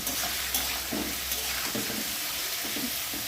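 Egg-free homemade chowmein is stirred in a pan after salting, a continuous fry hiss with soft scraping stir strokes recurring every half second or so, close and moderately loud.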